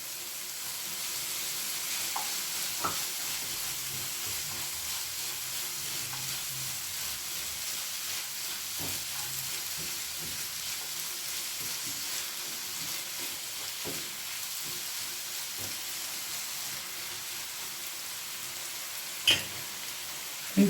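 Mango pickle cooks in a pan with jaggery, giving a continuous soft sizzle and bubbling with occasional light stirring clicks throughout.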